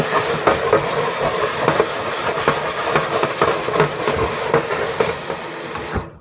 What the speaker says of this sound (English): And then scrubby brush and soap.